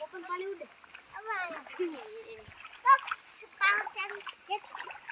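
A child splashes water in repeated bursts of splatter, mixed with excited children's voices talking and calling out close by.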